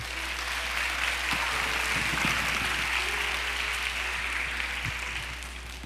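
A church congregation applauds to welcome a pastor to the pulpit, a steady dense wash of clapping that holds for several seconds before thinning slightly at the end, with a low steady hum underneath.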